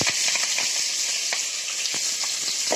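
Ten small onions and two slit green chillies sauté in hot oil, giving a steady, close hiss and crackle with a few soft stirring knocks, and no talk over it.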